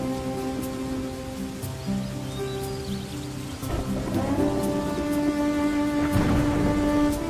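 Heavy rain falls in a continuous soft hiss beneath sustained musical tones, swelling a little louder toward the end.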